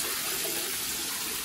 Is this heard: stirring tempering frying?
no